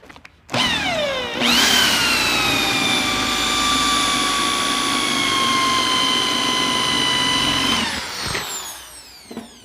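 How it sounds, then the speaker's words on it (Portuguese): A power drill with a 3/8 bit boring a hole into wood for a window tenon joint: the motor spins up with a rising whine, holds a loud steady high-pitched drone for several seconds, then winds down. "fazer esse furo aqui, até iniciei ele com a broca 3/8, vou fazer até metade, depois eu viro e faço outra metade"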